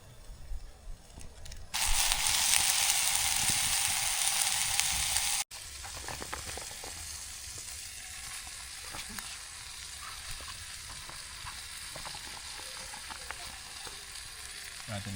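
Food frying in butter in a small steel Crusader cup over a campfire outdoors, a loud steady sizzle for a few seconds that then drops to a quieter continuous crackle with occasional stirring clinks.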